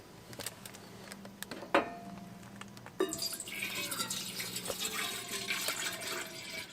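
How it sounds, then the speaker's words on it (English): Cold water trickles and splashes into a metal coffee percolator at a campground, starting with scattered drips and clinks, then settling into a steady pour. "let's add some water and get this percolator going"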